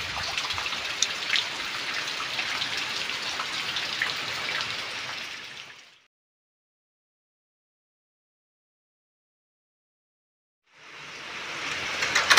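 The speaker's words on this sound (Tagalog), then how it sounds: "Tapos non-stop yung ulan." Heavy typhoon rain in Southern Leyte during Typhoon Tino, a dense steady roar of downpour that cuts to silence midway and then returns at full strength.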